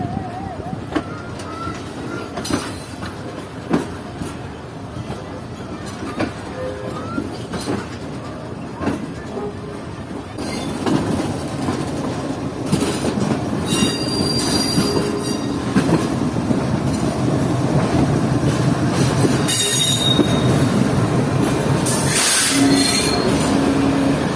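A relief train with a goods-only locomotive in the lead rolls from a loop line onto the main line near Karachi, wheels squealing loudly and steady rumbling building over the whole stretch, with faint talk in places.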